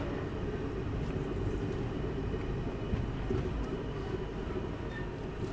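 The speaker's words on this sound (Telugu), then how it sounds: "సో జస్ట్ ఇట్లా వచ్చి ఆగుతుంది, డిపార్ట్ కూడా అయిపోతుంది" Sirpur Kaghaznagar Bidar Express train at Uppal station, heard as a steady low rumble of the train with continuous rolling noise and no speech.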